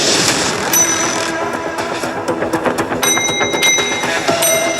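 Buzzer bells pressed on a quiz competition game show, several bright rings standing out over busy clicking and mechanical noise, loud and close.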